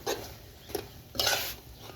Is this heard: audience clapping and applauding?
no